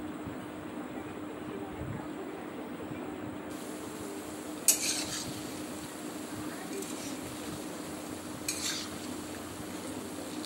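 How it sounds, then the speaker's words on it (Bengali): Banana fritters sizzle steadily in a pan of hot oil, a continuous frying hiss with occasional scraping stirs and a couple of sharp utensil clinks against the pan. "নেড়ে চেড়ে লালচে করে ভেজে নেব।"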